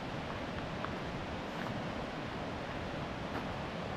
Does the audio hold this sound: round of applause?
no